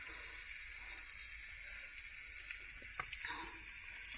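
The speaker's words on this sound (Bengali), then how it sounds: "দেখো কি সুন্দর জিলিপি ভাজা হচ্ছে।" Jalebi frying in hot oil, with a steady, soft bubbling sizzle close by and a faint clink or two near the end.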